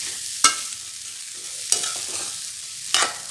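Horse gram sundal being stirred in a pan over medium-low heat: three sharp scraping strokes of a spoon spaced about a second apart over a faint, steady sizzle.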